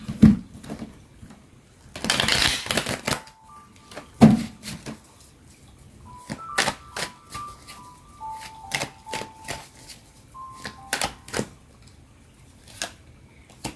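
Tarot cards are shuffled and riffled close by in a run of crisp, papery bursts and taps, with brief pauses between handfuls and no talking.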